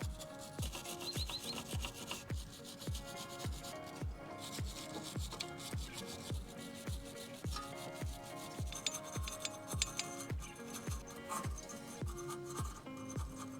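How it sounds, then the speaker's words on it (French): Steady back-and-forth scrubbing of a wire brush on a Fiat rear brake caliper, dense rhythmic rasping strokes repeating about twice a second, close and fairly loud throughout, with no one talking. "Je commence par un petit coup de brosse."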